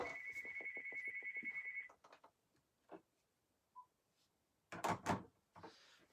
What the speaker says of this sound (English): I'm going to turn off this phone 1 second.